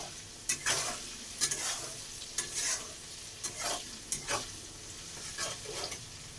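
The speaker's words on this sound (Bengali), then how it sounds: "কড়াতে তেল দিচ্ছি, তেল গরম হয়ে গেছে, পেঁয়াজ তেজপাতা দিয়ে দিচ্ছি" Onion and bay leaf hit hot oil in a wok and hiss, then bursts of stirring and scraping come in irregular pulses over a soft background sizzle.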